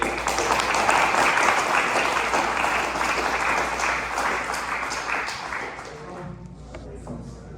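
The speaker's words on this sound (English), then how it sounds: "how about we give another round of applause to all the speakers" An audience at a spoken word event applauds the speakers with sustained, dense clapping that gradually thins and fades toward the end.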